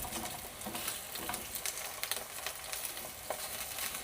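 Bacon sizzles and crackles steadily in a frying pan as it is turned, with a dense, continuous hiss and scattered sharp pops throughout, close and fairly loud, no talking.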